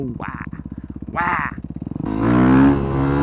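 A video-game motorcycle in 3D HangOver putters in a rapid, even idle that dips briefly, then swells into a louder, rising rev as the bike pulls a wheelie.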